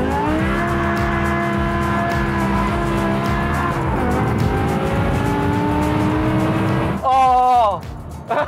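BMW M5 with a V10 engine sliding around a race circuit: a loud, sustained high engine howl shifts pitch as the car drifts, then sharp tire squeal near the end, with an excited voice over it.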